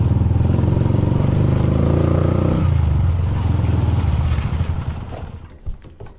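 A motorcycle ridden in the rain pulls up close and loud, its engine note steady at first, then easing off and fading toward idle near the end.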